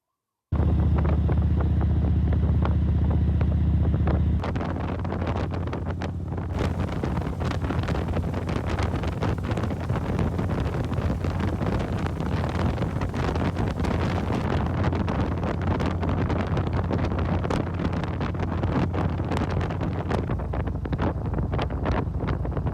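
A 2008 Harley-Davidson Electra Glide Ultra Classic on the move, with strong wind buffeting the microphone as a loud, continuous roar that drowns out nearly everything, after a brief steady engine hum at the start.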